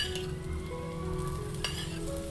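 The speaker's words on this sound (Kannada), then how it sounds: "ಇವಾಗ ಫ್ಲೇಮನ್ನು ಹೈ ಫ್ಲೇಮಲ್ಲಿ ಇಟ್ಕೊಳ್ಳೋಣ, ಆಮೇಲೆ ಸ್ವಲ್ಪ ಎಣ್ಣೆನ ಹಾಕ್ಕೊಳ್ಳೋಣ." Oil heating in a pan on a high flame, for a quick raw-mango recipe, makes a steady, continuous sizzle throughout, with a faint tonal hum underneath.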